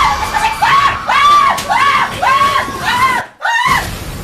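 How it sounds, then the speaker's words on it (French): Several people scream in short, repeated mock-horror bursts, loud and close, one shriek after another with a brief gap of silence near the end before a final cry. "Et enfin des gens hurler."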